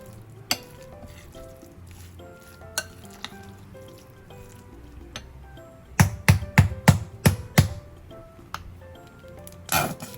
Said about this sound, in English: My mayo's already towards the bottom, so that's why I keep pounding it.